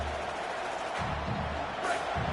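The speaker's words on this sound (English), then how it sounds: "This crowd, full throat, splitting the eardrums and letting them know it's going to be a long day" A football stadium crowd at a Notre Dame versus Clemson game keeps up a steady, dense wash of roaring noise, loud and continuous throughout with slight swells.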